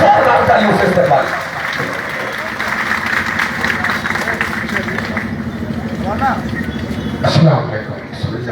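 Crowd at an outdoor Peace Party political rally in Deoria, with scattered clapping and cheering blended with a loud amplified voice and other chatter; the applause is strongest early and fades under the speech.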